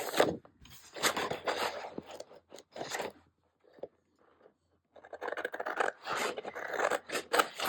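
Scissors snip through a paper corner in quick, close, quiet crunching cuts, with a brief lull midway before more rapid snipping resumes.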